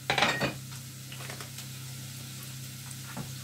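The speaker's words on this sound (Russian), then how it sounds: "Я сейчас отправляю морковку сюда зажариваться, чуть-чуть покассироваться." Carrots sizzle as they fry in a pan for a quick pork belly and potato roast. A brief stirring clatter comes at the start, then a steady, even frying hiss continues.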